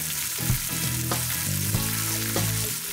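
Sliced jalapeno summer sausage sears in a hot pan with a steady, close sizzle and occasional louder crackles, no voices over it.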